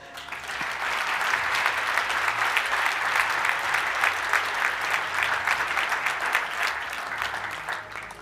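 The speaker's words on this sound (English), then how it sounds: "How about give them applause first?" An audience at a startup competition night claps for round 2 winners, sustained dense applause with fine rapid hand strikes, holding steady and fairly loud before tapering slightly at the end.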